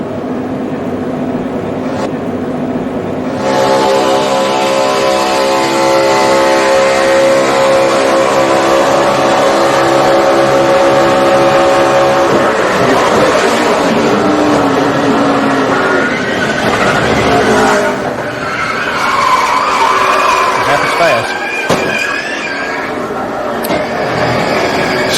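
NASCAR Cup Series stock cars roaring past on track, a loud sustained engine drone with a steady pitch that swells and fades as cars pass, then turns rougher and noisier, consistent with a crash and skid.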